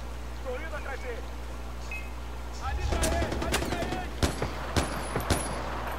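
Gunfire in the Far Cry 4 video game: after a quieter stretch with ambient game sounds, a burst of shots starts, then several sharp single gunshots crack at irregular intervals, fairly close and loud.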